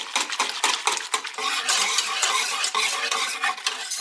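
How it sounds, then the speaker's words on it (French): A whisk stirs a chickpea milk mixture in a saucepan over medium heat, giving steady rapid scraping and clinking against the metal pan, close and continuous throughout. "je mets la casserole sur feu moyen, je mélange continuellement au fouet jusqu'à ce que le mélange s'épaississe"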